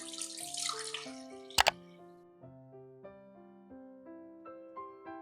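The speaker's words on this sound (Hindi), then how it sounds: "पैन में डालेंगे दूध" Milk poured into a pan for a no-bake chocolate custard pudding, a soft, brief liquid rush at the start that gives way to gentle melodic music.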